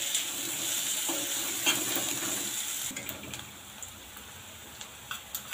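Onions and curry leaves sauté in a pan for Maharashtrian zunka, giving a steady close sizzling hiss that eases after a few seconds into scattered stirring clicks.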